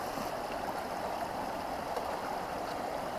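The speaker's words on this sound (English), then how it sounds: "This is our 9th river crossing, so it's a lot of rivers." A river flowing at a trail crossing in the Rich Hole Wilderness of Virginia, a steady, close, broadband rushing and gurgling of water that holds constant throughout with no voices.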